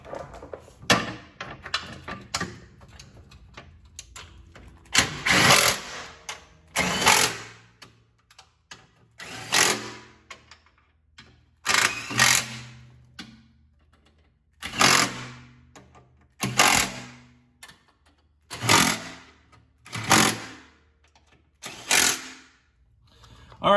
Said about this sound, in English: put all the bolts in, just screw them in with your fingers before you tighten them down with your 12mm socket